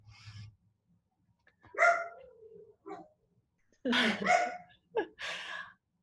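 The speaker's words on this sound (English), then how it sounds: "I promised my dog would bark, and there he is on cue." A pet dog at home barks several times in short, sharp bursts with whimpery breaths in between, fairly close and moderately loud against a quiet background.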